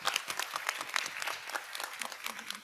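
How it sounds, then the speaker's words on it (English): An audience at an international migration dialogue conference session applauds the moderator, with steady, dense clapping from a crowd for a few seconds. "So I'd like to have a round of applause for our moderator"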